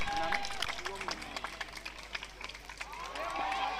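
Applause from a crowd at a local cricket tournament, a continuous patter of many hands clapping at middle distance under someone talking over a loudspeaker.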